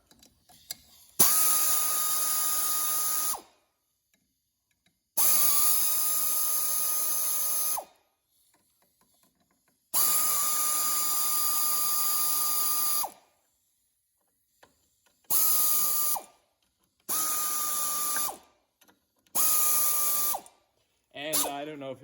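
An impact wrench loosens a fastener on a small TRS driver in a workshop, firing in five separate bursts of steady mechanical whirring and rattling, each lasting a few seconds, with short silent pauses between them.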